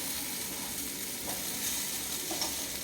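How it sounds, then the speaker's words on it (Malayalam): Tamarind water poured into a hot pan sets off a steady, even sizzle and frying hiss, close and moderately loud, with no talking. "ഇനി നമ്മളിതിലേക്ക് പുളിവെള്ളം ഒഴിച്ച് കൊടുക്കണം"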